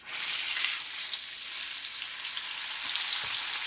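A giant steak frying in a little oil in a pan gives off a loud, steady, close sizzle that holds for the whole stretch with no voices.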